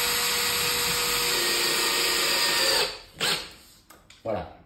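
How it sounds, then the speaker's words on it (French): A power drill runs steadily for nearly three seconds, screwing a partition floor rail into the corner of a room, then stops, followed by a few short bursts of handling and clatter. "Donc on va visser ça au sol, déjà bien dans l'angle, dans le coin."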